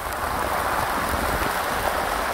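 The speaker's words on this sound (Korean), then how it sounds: "비가 더 굵어져요" Heavy autumn rain pouring steadily on a surface outdoors, a dense, loud and constant hiss with no voices.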